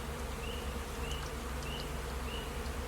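Honey bees hum in a dense, continuous drone while a hive is opened for a spring inspection, close and steady throughout, with no voices.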